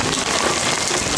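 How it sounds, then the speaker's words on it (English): Rain falls steadily outdoors in a dense, even hiss of drops striking surfaces, close and constant throughout the short stretch. "Lovely rain."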